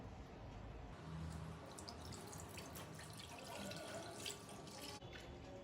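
Milk is poured into a wide, shallow pan for making basundi, giving a soft, steady liquid stream that runs without a break, close but quiet.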